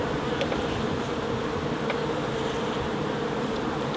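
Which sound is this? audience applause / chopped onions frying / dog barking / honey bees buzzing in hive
honey bees buzzing in hive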